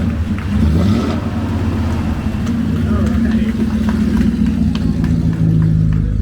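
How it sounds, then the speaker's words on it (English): A classic Duesenberg at a festival parade of classics, its engine rumbling and revving with open exhaust cutouts, a loud low throaty drone with slight swells throughout while people talk over it. "You pull a switch on the floor and you open up the exhaust to get more power out of the car."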